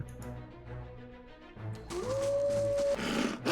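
Wolf from the fantasy role-playing game Pillars of Eternity: a low, rumbling growl that swells into a louder snarl over a steady game music bed with a sustained tone, close and fairly prominent.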